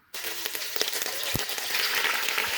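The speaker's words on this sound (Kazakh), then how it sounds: "Осылай етті қуырамыз." Steady sizzling and crackling of meat frying in hot oil, close up, with a few sharp pops and clinks, no voices.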